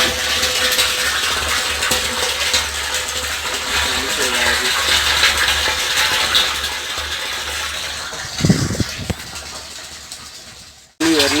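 A pump motor runs steadily while water pours and fills a rooftop water tank fitted with an automatic level sensor, a constant loud gushing wash throughout with a brief clatter near the end.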